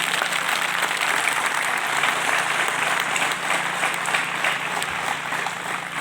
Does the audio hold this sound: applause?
yes